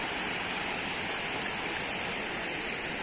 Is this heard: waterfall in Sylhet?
yes